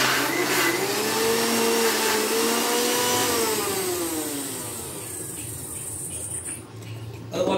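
A mixer grinder whirs steadily as it blends a jackfruit seed shake, a loud continuous motor drone with a pitch that dips and rises slightly before easing off near the end.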